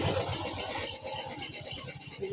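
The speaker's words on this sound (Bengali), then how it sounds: "তোমরা ভটভটির আওয়াজ পাবে" A bhotbhoti, a locally made engine-driven motor van, passes nearby with a steady, rough chugging rumble and rapid low pulsing throughout, fairly loud and continuous with no talk.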